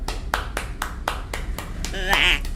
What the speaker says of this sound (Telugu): క్లాప్స్ ఎందుకు?